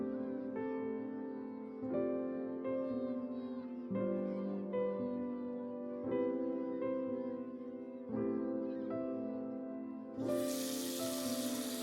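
A bathroom tap starts running near the end during a winter night routine of brushing teeth and washing up, a steady rushing hiss that enters under soft background music.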